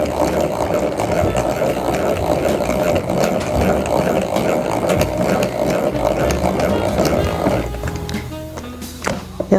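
A hand-cranked butter churn works homemade butter as the cream thickens, giving a loud, continuous grinding rumble that stops near the end, leaving a few scattered clunks.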